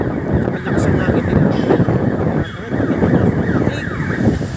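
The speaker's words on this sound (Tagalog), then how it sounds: "Ang lakas ang hangin." Strong wind rushes constantly through a rainy street with traffic, mixing with road noise in a dense, unbroken roar.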